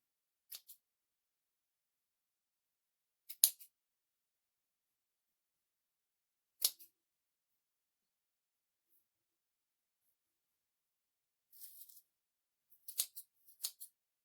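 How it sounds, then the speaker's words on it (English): Scissors snipping while making fall scarecrow decor, with short crisp cuts in small clusters separated by long silent pauses, close and quiet. "I'll cut these."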